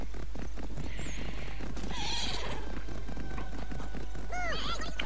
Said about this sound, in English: So call your horse, we'll speed the video up